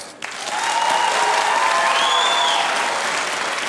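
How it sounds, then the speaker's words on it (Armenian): A studio audience at the Vitamin Club comedy show breaks into loud, sustained applause, a dense wash of clapping that swells quickly and holds steady throughout. "ես ուզում եմ ծափարությունների տեսքով լսեմ, թե ինչպես եք դուք"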